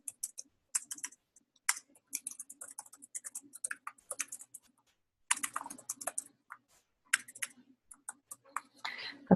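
Text is typed on a computer keyboard in quick clusters of light, crisp key clicks, with short pauses between bursts and a few louder strokes.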